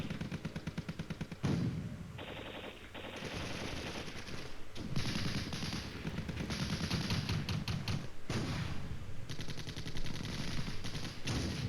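Tank gunfire in the wargame Flashpoint Campaigns: Red Storm, with rounds hitting a T-80 during an urban defense battle: a dense, continuous rattle of rapid shots and heavier blasts layered into a loud, unbroken barrage.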